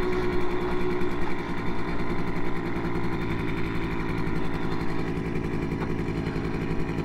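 Simson S51 Enduro moped engine drones steadily while riding, with a continuous buzzing two-stroke rattle and no voices.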